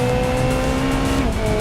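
Race car with a sequential gearbox driven in BeamNG, held in first gear: a loud, sustained engine whine with steady pitch and a slight drop near the end, no talking.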